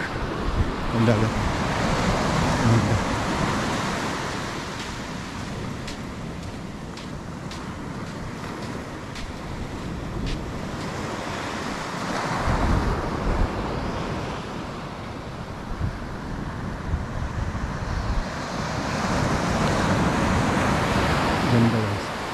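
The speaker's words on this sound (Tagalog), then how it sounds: "Ang dagat." Winter sea waves wash onto a beach in a steady, rolling surf with gusts of wind buffeting the microphone, the wash swelling and easing throughout.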